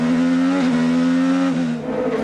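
Onboard a Honda-powered IndyCar racing at Detroit: a loud, close engine whine holds a high steady pitch, dips briefly, then drops as the car brakes before the engine picks up again, with no talk.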